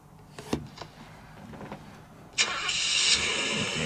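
A car engine in a mobile driving game cranks and then catches, with a few short bursts before it settles into a steady, bright idle drone for the remaining seconds.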